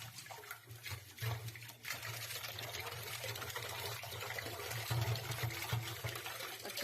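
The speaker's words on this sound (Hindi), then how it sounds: "तो चलिए अब इन्हें भी हम धो लेते हैं।" Running water pours steadily while taro (arbi) leaves are washed, a continuous close splashing trickle with a low hum underneath and occasional louder surges.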